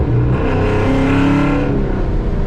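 A loud car engine with a custom comp cam and headers revs hard nearby, pitch climbing with a raspy, aggressive exhaust note before settling into a rumbling idle.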